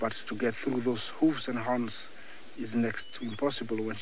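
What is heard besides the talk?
No everyday noises stand out.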